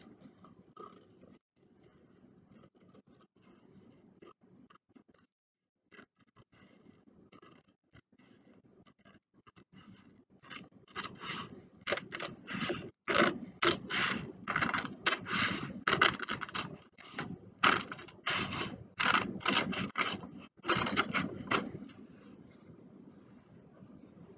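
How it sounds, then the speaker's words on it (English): Rapid crisp snips and scratchy rasps of scissors slicing through paper, quiet at first, then denser and louder in quick bursts before stopping. "my scissors are right where they need to be to cut this bottom part off"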